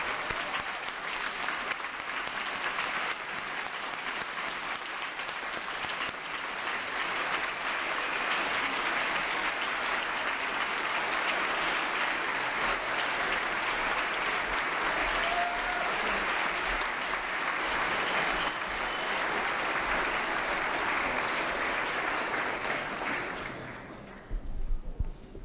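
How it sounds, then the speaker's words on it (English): Sustained applause from members and guests on a state Assembly floor session, steady and fairly loud clapping for about 24 seconds before cutting off abruptly at the end. "if we could have one rousing round of applause for our phenomenal 2020."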